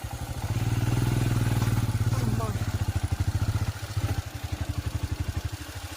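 Motorcycle engine chugging and labouring with a rhythmic thumping pulse while riding a rough Himalayan mountain road, loud and close, the note dropping toward a lumpy idle as the bike nearly stalls.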